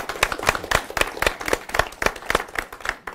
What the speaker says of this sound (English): Let's give Jay a round of applause